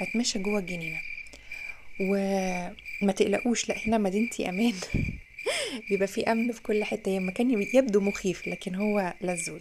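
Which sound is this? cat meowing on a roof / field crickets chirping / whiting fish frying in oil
field crickets chirping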